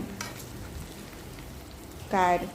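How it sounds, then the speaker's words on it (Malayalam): Prawns shallow frying in oil in a non-stick pan, a continuous close sizzle with a brief louder burst near the end. "ചെമ്മീൻ നോൺ സ്റ്റിക്ക് പാനിലിട്ട് ഇത് വറുത്ത് ഷാലോ ഫ്രൈ ചെയ്തത്"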